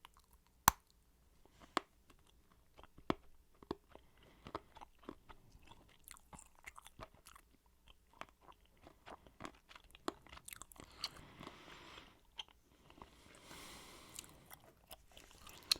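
Stale gum from 1991 Topps baseball card wax packs, brittle enough to turn to powder, bitten and chewed up close: crisp crunches and clicks, with soft mouth sounds in between.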